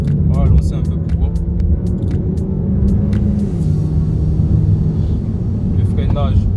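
A Mercedes C350 coupé with a naturally aspirated V6 and paddle shifters accelerates, its engine drone rising and falling loudly inside the cabin, with brief clicks and a voice speaking over it.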